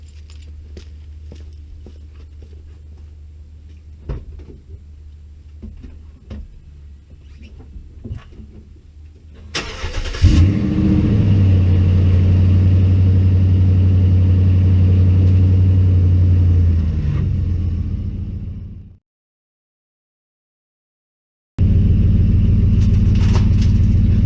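A 2009 Dodge Ram 1500 truck idles with a steady, close, loud rumble after some light clinking and handling noises, then cuts off briefly before the engine noise returns; no talking.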